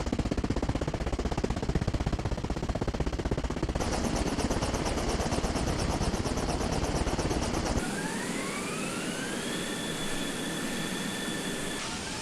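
Helicopter rotor and engine sounds from the game Arma Reforger, including damage-layer variants, play as a loud, steady mechanical drone that changes character in three sections, the last with rising whining tones.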